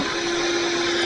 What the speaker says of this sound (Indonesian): putaran kipasnya ini sangat kencang ya, karena saya memakai kipas high speed